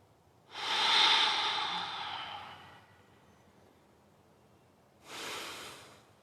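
Deep breathing during backyard yoga practice: one long, close, airy exhale through the nose or mouth, a pause, and then a shorter breath, heard alone without talk.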